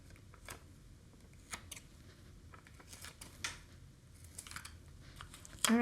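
Scissors trimming excess material from a colorized-resin craft piece in an open frame hoop, a few quiet close snips and light handling sounds in a still room.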